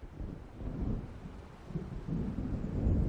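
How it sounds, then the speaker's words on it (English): Low, rolling thunder from an approaching storm in the video game Alan Wake Remastered, a faint continuous rumble that swells toward the end, heard alone. "It seems there's a storm coming."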